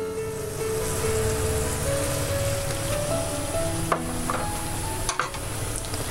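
Spices being stirred into hot oil in a pan for Kerala kingfish curry, a continuous close sizzle with light scraping of the spoon and a few small clinks, no voices.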